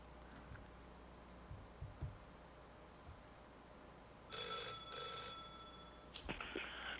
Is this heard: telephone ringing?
yes